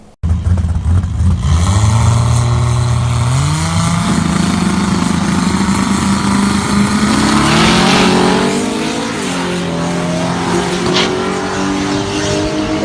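A 2JZ-swapped BMW E30 dragster launches hard down the drag strip, its engine loud and close and rising in pitch through several quick gear changes, then fading slightly toward the end of the run.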